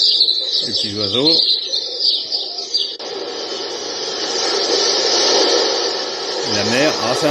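Birdsong chirps and tweets play through a bedside lamp's small speaker, sounding thin and compressed against a steady hiss, with a voice briefly speaking near the start and end.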